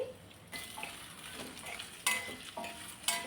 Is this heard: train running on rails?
no